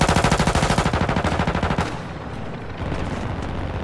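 Rapid automatic gunfire in the Call of Duty Modern Warfare 2 DMZ video game, a loud close burst of evenly spaced shots for about two seconds, then a fainter rumble of distant firing.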